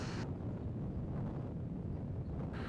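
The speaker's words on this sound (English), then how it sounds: "There's a strong wind blowing at the Isle of Arran." Strong wind buffets the microphone on the Isle of Arran, a continuous loud low rumble with no pauses and no talk.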